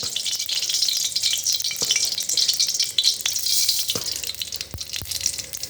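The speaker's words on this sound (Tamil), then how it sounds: "கொஞ்சமாக ஆயில் விட்டுக்கலாம். அந்த ஆயில் வந்து வெறும் கடுகு தான் நான் போடுவேன்." Mustard seeds fry in a little oil in a pan, making a loud, steady hiss with scattered sharp crackles and pops throughout.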